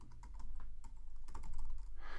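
Fingers tap on a computer keyboard, a quiet, uneven run of close key clicks entering short text, with a faint low hum underneath and no speech.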